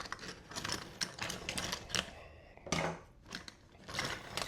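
Old snips bite through a pool robot's cable in a rapid string of crisp, dry clicks and snaps, close and fairly loud, with a brief pause in the middle before the cutting resumes.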